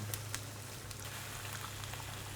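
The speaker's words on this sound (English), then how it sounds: "Now we can hear those starting to sizzle." Prawns sizzle in melted butter with garlic, a steady close crackling hiss with faint pops and a low hum beneath, no voices.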